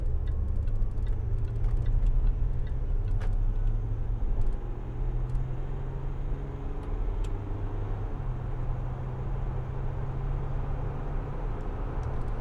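A Land Rover Discovery 4 3.0 SD V6 HSE accelerates smoothly, heard from inside the cabin as a low, steady, quiet engine and road rumble with faint ticking clicks.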